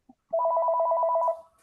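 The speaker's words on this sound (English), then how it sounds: "that sounds like a regular office phone." A regular office telephone gives a single electronic ring, a buzzy trilling burst lasting about a second, clear and alone against silence.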